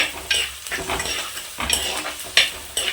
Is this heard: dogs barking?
no